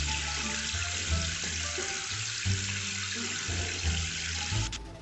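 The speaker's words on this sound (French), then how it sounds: "je vais commencer par mettre de l'eau bien tiède" Lukewarm water pours steadily from a tap into a small basin, a continuous close-up splashing rush with a low bubbling tone underneath.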